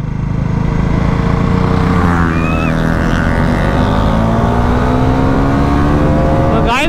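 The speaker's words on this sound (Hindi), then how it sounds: "देखना सुपर बाइक वाला होगा।" A superbike roars past on a road, loud and close, its engine note sweeping down in pitch as it passes and pulls away over constant wind rush.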